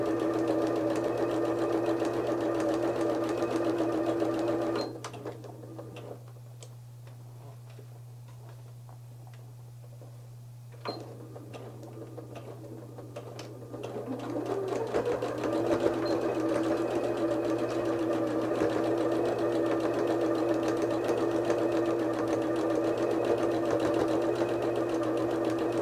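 A sewing machine stitches the side seams of an envelope pillow cover, running steadily with a fast mechanical whir, pausing for several seconds, then starting again and continuing to the end.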